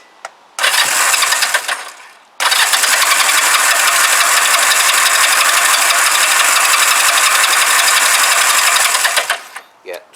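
A Honda CM200T Twinstar motorcycle, relatively warm, cranks on its starter in two loud, close, sustained bursts with a mechanical whir and rattle, the engine never catching before each attempt cuts off.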